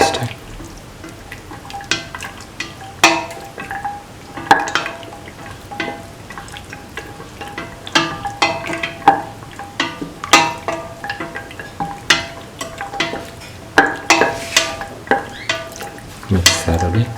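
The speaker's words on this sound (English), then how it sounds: "Mix the carrot and the pasta." A spoon stirs carrot and pasta through a sizzling pan of sweet carrot coconut milk pasta, giving repeated irregular scraping clacks over a soft frying hiss, close and fairly loud with no talking.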